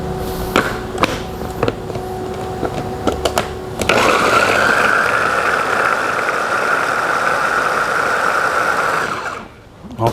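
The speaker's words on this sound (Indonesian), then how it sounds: "mau langsung gua chop aja ya. Kita menggunakan mesin agar lebih cepat kerja kita." Electric chopper processing roughly cut onions for catering. A few clicks and taps come first, then the motor whirs loudly and steadily for several seconds before cutting off.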